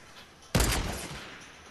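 A sniper rifle fires once in a video game, a sudden loud crack that cuts in after a quiet moment and trails off in a long echoing decay. No one speaks.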